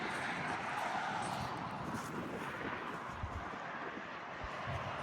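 Wind blows outdoors beside a 28x48 mobile home, a steady broadband roar buffeting the microphone close up for the whole stretch with no voices.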